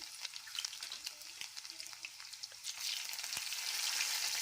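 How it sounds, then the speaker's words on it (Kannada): Mustard seeds and garlic frying in hot oil, a steady crackling sizzle with scattered sharp pops that swells louder toward the end, close and continuous with no talking. "ಎಣ್ಣೆ ಕಾದಿದೆ ಸಾಸಿವೆ ಹಾಕ್ಕೊಳ್ತೇನೆ ಈಗ ಇದಕ್ಕೆ ಬೆಳ್ಳುಳ್ಳಿ ಹಾಕ್ಕೊಳ್ತೇನೆ"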